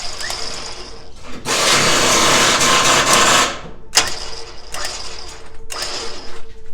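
A winch on a Jeep Gladiator reels its cable in with a continuous mechanical whir and ratcheting gear grind lasting a couple of seconds, followed by several sharp clicks and clunks, close by.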